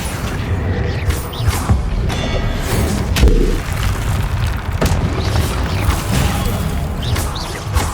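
In Hogwarts Legacy, the Confringo spell and other combat spells go off as loud, dense explosive booms and crashes. They come in quick succession over a busy, continuous battle din.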